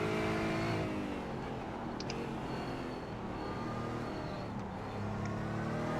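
A race car engine drones steadily on the Rockingham oval in the iRacing sim, a continuous, fairly loud hum with shifting pitch and no talk over it.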